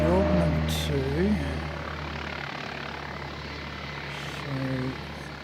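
A light aircraft taxis at Canterbury Aero Club on a windy day, its steady engine drone running throughout while someone talks over it at times.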